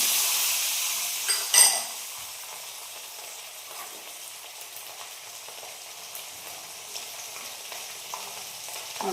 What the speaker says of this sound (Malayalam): അപ്പം അതിനകത്തേക്ക് ഞാൻ തേങ്ങാക്കൊത്താണ് ഇടുന്നത്